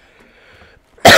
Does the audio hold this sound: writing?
no